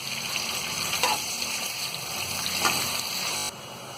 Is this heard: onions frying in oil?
yes